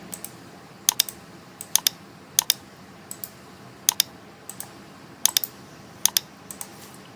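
Fingers tap out a number on a computer keyboard in sharp, close clicks, coming in small bursts of two or three keystrokes with short pauses between them.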